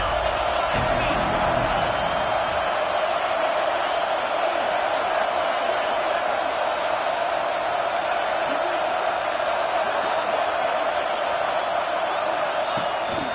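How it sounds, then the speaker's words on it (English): Unbroken roar of a football stadium crowd at Notre Dame versus Michigan as the second half opens, loud and dense and holding steady throughout with no clear peaks. "This crowd still bringing the intensity to open the second half."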